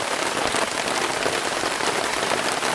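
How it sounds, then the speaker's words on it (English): Rain falls steadily on a campsite, a dense close hiss of drops pattering on surfaces with no pauses and no voices. "Raining again."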